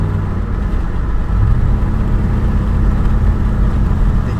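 The engine of a 2005 Lincoln Aviator fitted with a 2003-04 Cobra motor and leaking exhaust manifolds gives a steady, close, deep rumble with slight surges and no talk over it.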